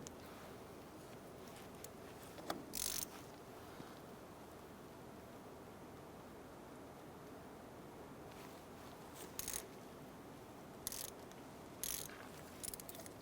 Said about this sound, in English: What we want to do is loosen up our bleeder screw here.